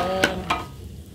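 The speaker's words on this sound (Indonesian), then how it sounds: "kita mulai goreng kacangnya nah ini goreng kacangnya" Peanuts fry in a pan for a homemade sambal, giving a steady hiss of sizzling oil with two brief stirring scrapes close by; no speech is heard.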